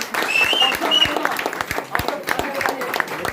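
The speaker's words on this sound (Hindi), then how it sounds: "फिर आप लोग ताली बजाइए" Audience applause at a prize distribution event, dense steady clapping from many hands filling the space, fairly loud and continuous with a few voices and whistles mixed in.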